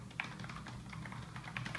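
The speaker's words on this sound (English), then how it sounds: "This is a clickable keyboard." Keys clack quietly on a Microsoft Wireless All-In-One clickable keyboard. The typing is a rapid, steady run of soft clicks, heard close up with no one talking.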